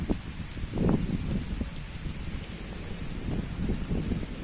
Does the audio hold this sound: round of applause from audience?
no